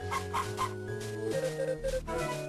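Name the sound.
chicken clucking in a video game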